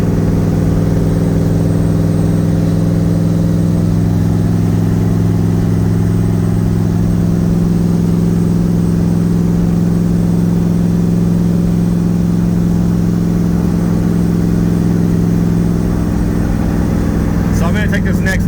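Nissan 300ZX IMSA widebody with a swapped VK56 twin-turbo V8 pulling hard at speed, a loud, steady, thick engine drone held throughout with strong low harmonics and little change in pitch, heard from inside the car.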